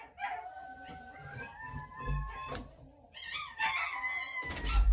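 Several dogs bark and howl together in drawn-out, wavering cries broken by sharper barks, loud and close throughout.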